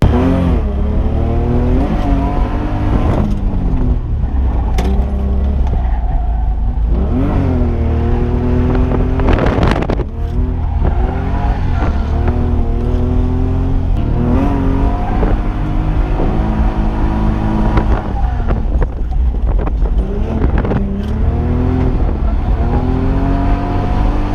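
A stock BMW E46 is drifted hard on the e-brake, its engine revving loudly and continuously with pitch swinging up and down, plus bursts of tire squeal and wind rush close to the microphone.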